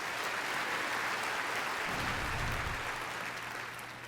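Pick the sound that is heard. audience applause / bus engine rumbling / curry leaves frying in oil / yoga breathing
audience applause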